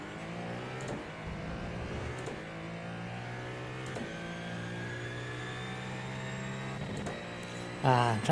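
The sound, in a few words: racing car engine revving to the limiter in iRacing video game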